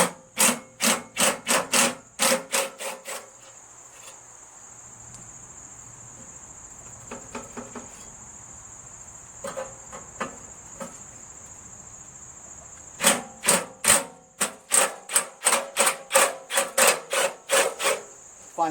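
Impact wrench hammering in short bursts on a rusted, seized muffler bolt of a Cub Cadet lawn tractor, rapid rattling clusters at the start and end with a quieter stretch of faint ticks between.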